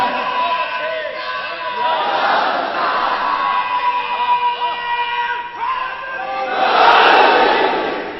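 A large crowd at a religious sermon on Karbala chants slogans (naara) in unison, loud and close, with rising and falling shouted phrases that swell to a peak near the end.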